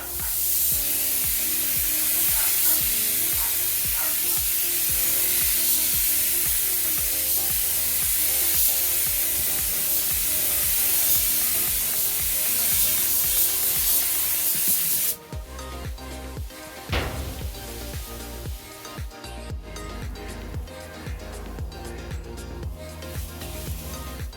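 Spray gun applying paint to a panel on a Jaguar E-Pace during a smart repair, a loud continuous hissing spray for about fifteen seconds, then quieter intermittent bursts and handling noises, close to the gun.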